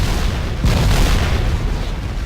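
A basic grenade blasts trees in Factorio: a loud, dense explosion that swells sharply partway through and sustains a broad rumbling roar to the end, with no voices.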